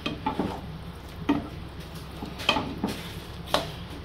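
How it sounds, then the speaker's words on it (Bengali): Mutton keema is stirred with ground spices in a pan over a raised flame, with a soft sizzle and intermittent scrapes and clinks of a spoon against the pan, fairly quiet and with no talking. "মশলা দিয়ে আমি ভালো করে মিশিয়ে নেব।"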